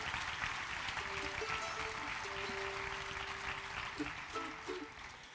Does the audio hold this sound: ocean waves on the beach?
no